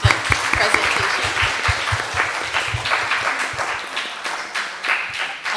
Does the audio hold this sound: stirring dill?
no